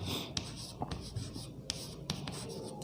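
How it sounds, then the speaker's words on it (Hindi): Marker or chalk scratching across a classroom board during a computer lecture, steady close strokes with a few sharper taps, over a constant room hum. "तो फर्स्ट ऑफ ऑल यहाँ पर हम लिख लेंगे"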